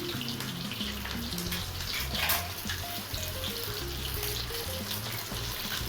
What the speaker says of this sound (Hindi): तो अब चलिए सारे वेजिटेबल को अब सौटे करते हैं